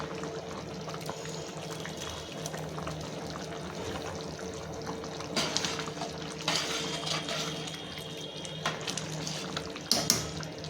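A pot of mixed dal rice boils steadily, with a constant bubbling, watery rush and a few louder gurgles and clinks toward the end, heard close and alone.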